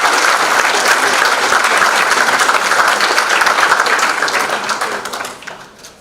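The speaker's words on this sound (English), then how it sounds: "May I request that we give another round of applause" An audience at a judiciary arbitration event in Nairobi claps in sustained applause, loud and dense for several seconds before trailing off near the end.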